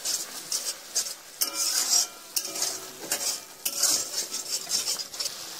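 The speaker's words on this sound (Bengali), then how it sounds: "সর্ষেটা দেওয়ার পর একটু নাড়াচাড়া করে নেবেন।" Ground mustard paste is stirred in a pan, a spoon scraping the pan in a quick rhythmic pattern over a soft sizzle, close and fairly loud, with no one speaking.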